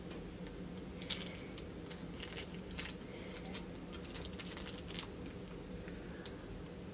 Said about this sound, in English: So I'm gonna take one out of the plastic bag so you can see.